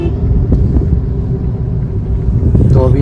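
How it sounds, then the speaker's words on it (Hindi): A Hyundai i20 with a clutch pedal that sticks runs along a road, giving a steady, loud low rumble of engine and tyres from inside the car, continuous throughout with a slight swell near the end. "गाड़ी जैसे आप देख भी पा रहे होंगे रोड के ऊपर दौड़ रही है गाड़ी"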